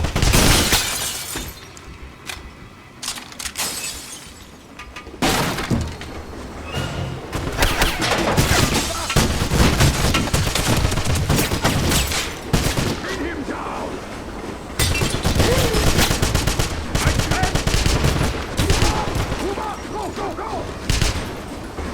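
Gunfire and shattering impacts from the video game Wolfenstein: The Black Sun, with dense bursts of shots and crashes filling most of the stretch, a quieter lead-in, and voices shouting now and then beneath the combat.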